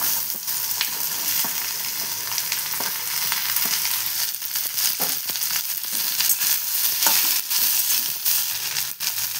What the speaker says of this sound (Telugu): కొంచెం ఈ విధంగా వేయించుకోవాలి